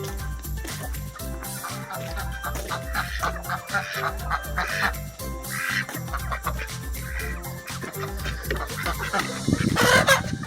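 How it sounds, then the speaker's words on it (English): Chickens cluck steadily, with a rooster crowing now and then, over a low rhythmic rumble in the background. "So go ahead and let these chickens out."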